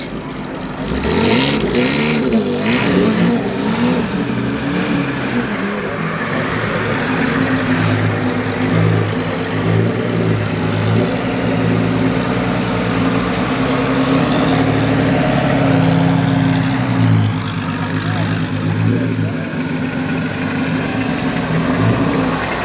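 A vintage racing car at the Prescott hill climb passes close and loud, its engine roaring steadily with a rising and falling supercharger whine over about twenty seconds, then fading.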